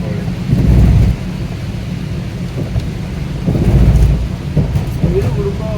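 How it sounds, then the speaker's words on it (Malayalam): Heavy rain drums steadily on a car travelling along a national highway, a dense low roar that swells louder twice, with no voices over it. "നല്ല മഴ വേറെ"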